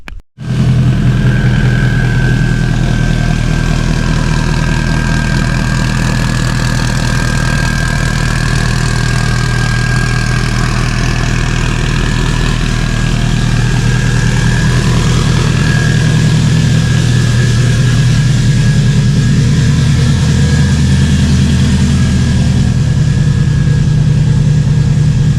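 A Subaru STI tuned to over 1000 hp idles while warming up, a loud, steady, close engine rumble with a constant low drone and a faint whine that holds evenly throughout, with no one speaking.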